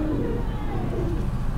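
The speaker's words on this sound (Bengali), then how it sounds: "ইউনিক ইউনিক কোয়ালিটির পায়রা দেখো দাঁড়ার ভিতরে।" Pigeons in a large pigeon loft on a farm coo softly in a low, steady murmur, with a busy room tone of birds shuffling throughout and no voices.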